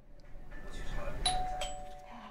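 A home doorbell chimes once with a clear electronic ding-dong tone, moderately loud over quiet room ambience with faint voices.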